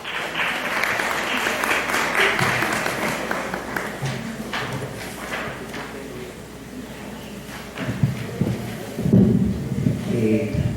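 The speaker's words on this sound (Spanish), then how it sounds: "vamos a recibirlo con fuertes aplausos" An audience applauds to welcome a student speaker presenting a paper in Cusco, a dense sustained clapping that fades slightly midway before rising again near the end.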